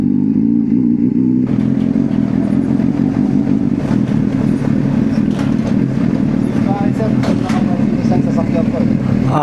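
A Honda CBR600RR sport motorcycle being ridden, the engine droning steadily with revs rising and falling alongside road clatter and wind, loud and close, with a voice talking over it.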